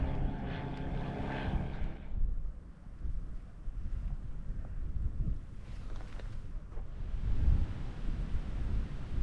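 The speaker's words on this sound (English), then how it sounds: "there's another plane coming in" A propeller plane drones overhead near the Compton Abbas hillside on the North Dorset ridge, a low steady hum that swells and fades under gusts of wind buffeting the microphone, with no one talking.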